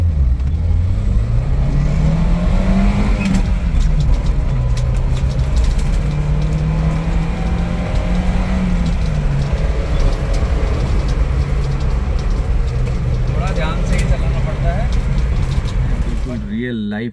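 A Maruti Gypsy engine runs loud and close throughout, its tone swelling and dropping in a couple of revving surges over a steady idle rumble.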